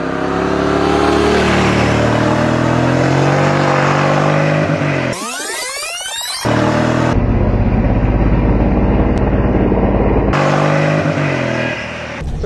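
A car fitted with Anlas Winter Grip Plus tires accelerates hard, the engine droning loud and steady, rising and falling with revs, heard from close inside or near the car, with no talk over it.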